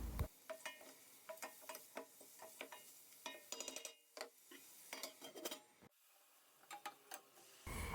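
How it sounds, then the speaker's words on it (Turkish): Onions and peppers sautéing in a pan for an okra dish: repeated spoon stirs and scrapes against the pan over a soft sizzle, in short, irregular bursts. "Soğanları kokusu çıkana kadar kavurduktan sonra üzerine biberleri ekleyelim ve birlikte kavurma"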